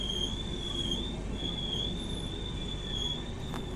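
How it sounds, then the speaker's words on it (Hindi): Train wheels squeal in a sustained high, wavering whine as an express train brakes on a downhill grade, heard steadily over a dull rolling rumble with no talk. "ट्रेन जो है ब्रेक मार मार के चल रही है"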